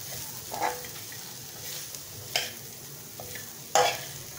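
Cumin, tikka masala and salt are stirred into ingredients for pizza pinwheels, with quiet scraping and mixing strokes coming in a few distinct bursts over a faint background hiss.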